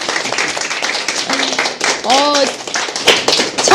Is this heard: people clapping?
yes